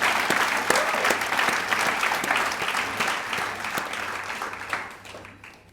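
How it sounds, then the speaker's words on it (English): Audience applause at an awards event, a dense sustained roar of many hands clapping that stays loud throughout and tapers slightly toward the end. "Please give yourself a round of applause."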